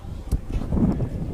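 Strong wind at EPCOT buffets the microphone in short gusts, a rough rumbling rush that swells and fades over a moment outdoors.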